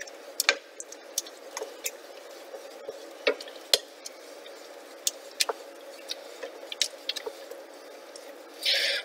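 Spoon working a roux for cheddar cheese soup into a thick paste in a pot, with soft squishing and scattered sharp taps against the pan over a quiet background, close and moderately faint.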